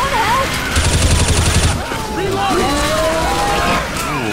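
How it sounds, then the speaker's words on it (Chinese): Gunfire in the video game Left 4 Dead 2 in multiplayer expert mode: a loud burst of rapid automatic shots lasting about a second, followed by game noise and people talking. "那边边拉刚好有人从那边开枪过来"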